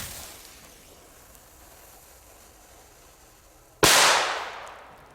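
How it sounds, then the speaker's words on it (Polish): A small Jorge Explosive firecracker going off once with a sharp, loud bang that trails into a fading hiss, after several seconds of quiet outdoor background. "Eksplozywy, zdecydowanie moje, z jedna ulubionych serii małych petard."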